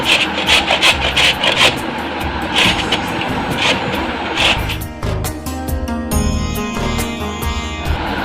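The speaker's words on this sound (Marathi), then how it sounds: "आता आपण याला किसून घेणार आहोत किसणीवरती।" Peeled raw mango is grated on a grater for gulamba, a loud, close, rhythmic rasping of repeated strokes, turning to a rougher scraping near the end.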